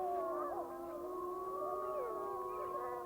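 Several wolves in Yellowstone howl together, long overlapping wavering tones rising and falling in pitch, sustained and layered at moderate distance with no pauses.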